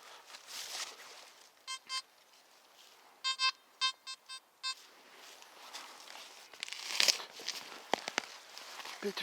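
A Simplex metal detector sweeping in a forest gives a run of short, clear electronic beeps in two brief bursts, faint and close, followed by rustling and crunching of ground debris, with no talking.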